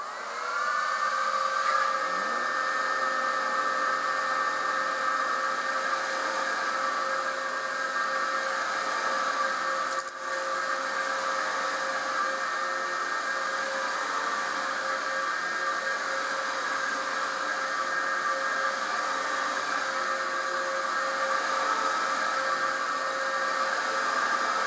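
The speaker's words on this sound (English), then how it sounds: "Up next is the Dyson DC07 Animal." A Dyson DC07 Animal upright vacuum cleaner runs steadily with a high motor whine and airflow roar, constant and close, with a slight pitch rise at startup and a brief dip midway.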